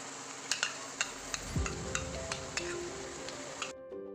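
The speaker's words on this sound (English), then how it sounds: "Now add in the ground masala paste." Ground masala paste sizzles in a pan over sautéed onions, green chilli and curry leaves while a tomato kurma is cooked. A close, steady hiss is broken by several sharp utensil clinks against the pan.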